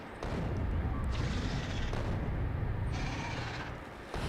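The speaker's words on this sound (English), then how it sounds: "he just needs to be shot by more artilleries" Artillery fire in a video game, dense rolling booms and rumbling blasts that overlap into a loud, continuous roar with a few brief breaks.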